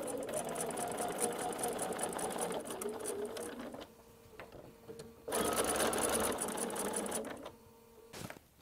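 A sewing machine runs in two long bursts of stitching on a zipperless case, with a brief reverse backstitch, a quieter pause in between and a sharp click near the end, close and loud with no talk.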